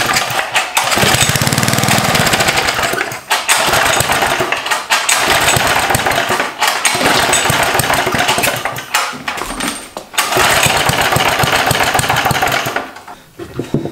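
Small engine on a budget Fox minibike being pull-started repeatedly, loud and close, with rapid rasping bursts broken by short pauses, sputtering without catching.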